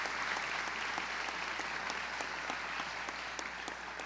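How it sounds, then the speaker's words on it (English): Sustained crowd applause at a college presidential inauguration ceremony, a dense, even clapping that continues steadily for the whole stretch without speech. "Can we have another round of applause for her?"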